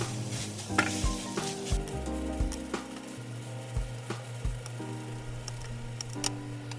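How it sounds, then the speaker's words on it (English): Ground meat being mixed by hand with American cheese and spices for patty melt egg rolls, giving steady, close, squelchy stirring strokes with a faint sizzle-like crackle. Soft tonal music runs underneath, and no one talks. "Now we're going to mix everything together, get that cheese nice and blended into the meat, and mix all the spices in there."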